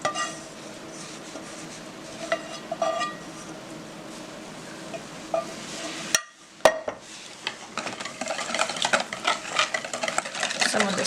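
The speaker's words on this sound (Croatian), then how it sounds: "možemo je usuti u izmučena jaja i šećer i to ćemo ukratko onda samo pomiješati" A spoon stirs melted chocolate into beaten eggs and sugar in a bowl, giving soft, steady scraping and swishing with a few light clinks against the bowl, close by and alone.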